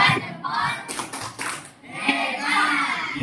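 A group claps rhythmically through a thumb-clap chant in a classroom, with bursts of claps separated by children's voices and chanting.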